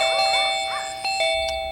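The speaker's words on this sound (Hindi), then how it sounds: "आधी रात को कौन घंटी बजा रहा है?" A doorbell rings at midnight with a short electronic chime, several bright ding-dong tones in quick succession, close and clear against a low hum.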